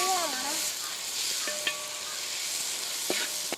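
Chopped tomatoes frying with garlic and ginger in a pan for a Chettinad-style chicken curry, a steady close broadband sizzle with a few soft stirring clinks throughout, no voices.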